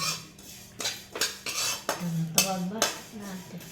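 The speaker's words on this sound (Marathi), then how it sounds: "खसखस आणि तीळ टाकून घ्यायचं आता टाकून आता छानपैकी पण लालसर भाजून घ्यायचं" A metal spoon scrapes and clanks against a hot pan while poppy seeds and sesame seeds are dry-roasted, giving sharp, irregular strokes every half second or so, close and fairly loud, with no one talking.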